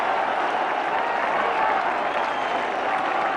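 A large cricket crowd at an India versus England match in 2002 roars and applauds after India's win, a dense, steady wall of cheering and clapping that sounds broad and distant.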